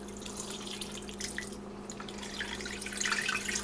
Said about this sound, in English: So I'm going to add 2 cups of water.